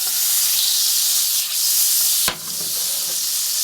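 Butter and olive oil sizzle steadily in a hot frying pan, a loud, continuous bright hiss that holds throughout with brief dips and one sharp crackle partway through.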